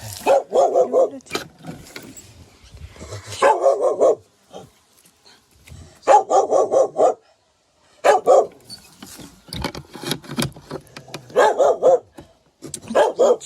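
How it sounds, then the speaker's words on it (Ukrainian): A dog barks in repeated bursts of several sharp barks separated by short pauses, loud and close, with no talking over it. "А ти гавкаєш на мене."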